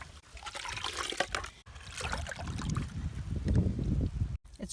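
Plant tea macerating in a container of water is stirred from the bottom, producing close sloshing, swirling and trickling liquid sounds in uneven surges with brief pauses.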